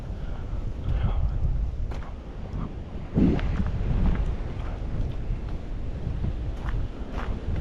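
Steady strong wind buffets the microphone over rushing water and lapping waves on the Dniester river, a continuous rough roar with a few knocks.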